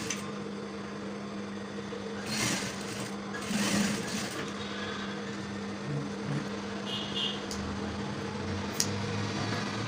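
A sewing machine runs a stitch along folded pant fabric, a low steady motor hum lasting throughout at moderate level, with a few brief bursts and clicks over it and no talking.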